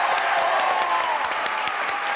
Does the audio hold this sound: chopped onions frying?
no